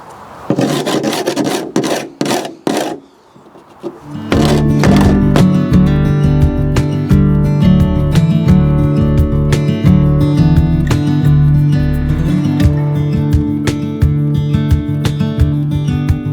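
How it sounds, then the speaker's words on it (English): A bastard file rasps along the freshly cut metal edge of a window opening in a Nissan NV200 van, a few separate strokes first, then continuous rhythmic back-and-forth filing, loud and close. "got a little bastard file here. I'll give it a try."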